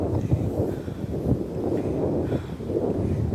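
Gusty morning wind at Marina Garden, Kuwait, buffets the microphone with a low, rumbling roar that rises and falls in uneven bursts, steady throughout.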